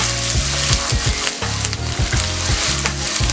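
Sliced onions frying in hot oil for an egg noodle stir-fry, a steady loud sizzle with rhythmic stirring scrapes throughout, no voices.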